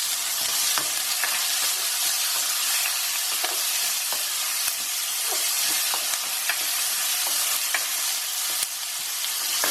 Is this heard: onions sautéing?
yes